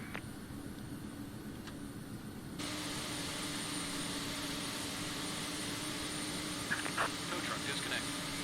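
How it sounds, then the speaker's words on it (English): Jet engines on a Boeing 767-300ER in the Prepar3D flight simulator spool up, and the steady whine and roar jump abruptly louder partway through, then settle into a constant hum with faint clicks. "so we have 2 good engine starts"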